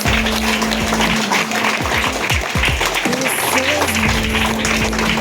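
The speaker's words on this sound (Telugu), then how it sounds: "క్లాప్స్ కొట్టండి." Students in a school classroom clap for an election result, a dense burst of applause over a steady hum, with a voice speaking through part of it.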